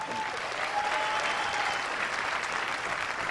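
Steady audience applause fills a film festival awards show, a dense, even wash of clapping from a crowd that holds at one level throughout with no voices over it.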